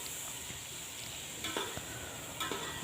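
Onion, ginger garlic paste and tomatoes sautéing in a pan, a steady close sizzle with occasional soft stirring scrapes and clinks of a utensil against the pan.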